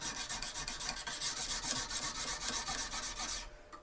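Steady rasping of a knife blade drawn repeatedly across a Lansky sharpener hone, fast back-and-forth strokes close and clear with no talk, stopping abruptly near the end.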